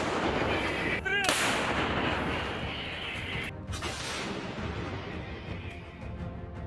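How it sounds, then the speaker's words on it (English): Ammunition cooking off inside a burning tank, a loud sharp blast near 1.2 s and another near 3.6 s over a continuous rumbling roar, recorded at a distance in a combat setting. "another explosion occurs without additional ammunition striking the vehicle"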